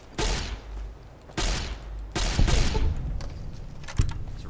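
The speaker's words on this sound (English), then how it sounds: "I'm being shot at." Gunfire in Fallout: New Vegas: several loud bursts of shots arrive in separate volleys with sharp impacts between them, fairly close and with no talking over them.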